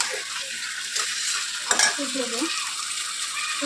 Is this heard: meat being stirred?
yes